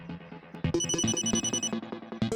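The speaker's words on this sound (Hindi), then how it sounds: "दया का फोन आ गया।" Electronic telephone ringtone signalling an incoming call in a Hindi sitcom household scene, a bright repeating melodic tone pattern, fairly close and alone without talk.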